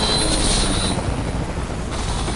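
A damaged helicopter roars steadily and loudly throughout, with a dense, unbroken rotor and engine wash and a brighter whine in the first second.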